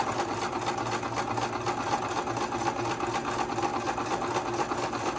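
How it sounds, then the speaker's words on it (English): A Brother LX 2375 sewing machine stitches forward in a fast, steady mechanical whir with rapid rhythmic ticking from the needle, continuous and close, with no voices. "I let go of the button and I'm going to go forward and sew."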